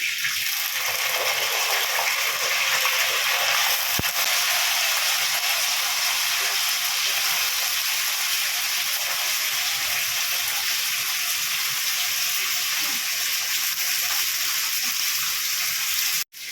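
Brinjal pieces fry with chana dal, urad dal and curry leaves in hot oil, giving a loud, steady sizzle and hiss that runs unbroken until a sudden stop at the end.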